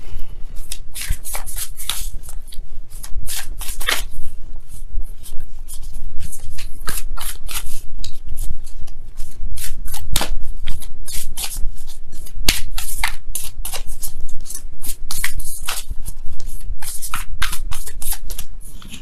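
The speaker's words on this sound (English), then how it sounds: "let me go ahead and really shuffle." Tarot cards being shuffled by hand during a love reading, a steady stream of crisp riffling and slapping bursts that continues close and loud for the whole stretch, with no talking.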